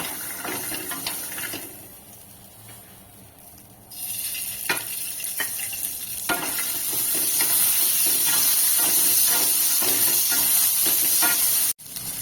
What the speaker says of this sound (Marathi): हे वाटाणे आपल्याला तीन ते चार मिनिटासाठी फ्राय करून घ्यायचे आहेत त्याच्यामध्ये मी थोडंसं तेल सुद्धा घालणार आहे